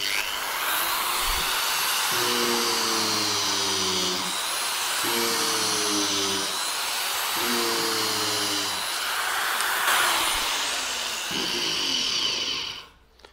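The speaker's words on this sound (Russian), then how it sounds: "Ну, слышите, как только я прижимаю, теряет болгарка в мощности." A Nowa angle grinder runs continuously at close range with a loud high whine while sanding a wooden block, its pitch dipping in three or four sagging stretches as it is pressed into the wood, then cutting off at the end.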